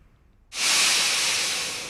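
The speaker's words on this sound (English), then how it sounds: "Engines ran on a mysterious new element the Victorians had discovered called steam." Steam bursts out in a sudden loud hiss from a steam engine, starting abruptly after a quiet moment and holding steady before tapering slightly.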